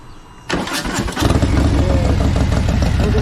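A Harley-Davidson Softail V-twin fires up with a brief cranking burst, then settles into a loud, steady, lumpy idle, recorded close by.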